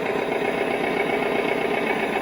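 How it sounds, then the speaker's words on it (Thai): A 1:14-scale RC M35A2 6x6 dump truck's engine runs steadily at idle, a continuous close buzzing drone with a faint knocking texture, heard alone with no talk. "พอเราสตาร์ทเครื่องยนต์เสร็จ นะควันก็จะออกมาด้วยเลยนะครับ"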